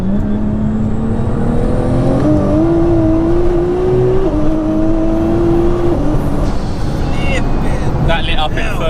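A 1100bhp JM-Imports Nissan GTR accelerates hard on a B road, its engine note rising and stepping up through the gears before the wheels spin up in third, loud and continuous, with people talking over it.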